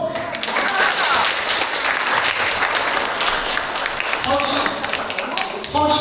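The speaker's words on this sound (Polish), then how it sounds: "To jest najpierw brawa dla młodych." A crowd at a Christmas Eve gathering for seniors applauds young Caritas volunteers, a loud, sustained wash of clapping with some voices and cheers rising over it near the end.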